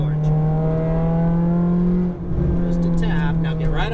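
A Ferrari F430 engine on a race track holds a steady loud drone through a gear change, dipping briefly before building again, while someone talks over it throughout.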